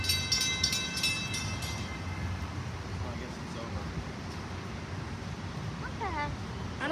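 A train passing near Boston heard from a duck tour, a steady low rumble with a faint tonal horn-like sound at the start and near the end.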